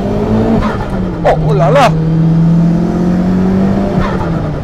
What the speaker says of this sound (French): Je peux quand même accélérer.